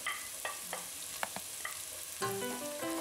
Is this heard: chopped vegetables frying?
yes